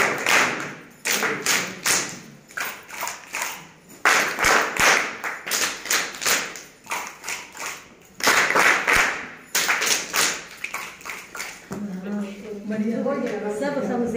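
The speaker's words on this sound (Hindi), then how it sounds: "विशेष ताली चल दो।" A workshop group performs a rhythmic special clap, tight bursts of loud unison claps in repeated counted patterns with short pauses between sets, and a voice speaks near the end.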